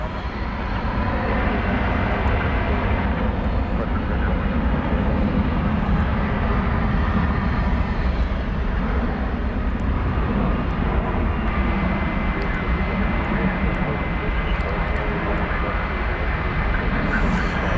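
A FedEx cargo jet departing DFW Airport bound for Indianapolis, a steady broadband engine roar holding loud and even throughout, with no voices.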